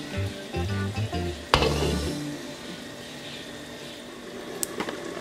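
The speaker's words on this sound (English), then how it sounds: "Alright, now that it starts to boil" A pot of water coming to a boil for Jamaican rice and peas, a soft steady bubbling hiss with a sharp clink partway through, after a low hum at the start.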